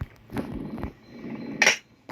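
A shotgun blast in the horror video game Granny rings out as one sharp, bright report near the end, with two softer thuds and a faint rumble before it and no voices.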